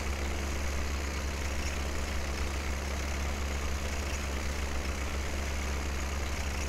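An old, underpowered tractor engine runs steadily during grass cutting on a 1961 summer farm, a loud, constant low rumble with a dense mechanical drone and no pauses.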